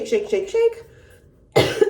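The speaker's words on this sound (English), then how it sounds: "I had to cough" A short burst of speech, a pause, then a single harsh cough close to the mic.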